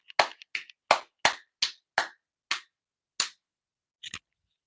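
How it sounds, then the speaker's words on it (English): A few separate hand claps, roughly nine, close and crisp with uneven gaps that stretch out, ending in a quick double clap, with no talking around them. "Let's have a round of applause, you guys."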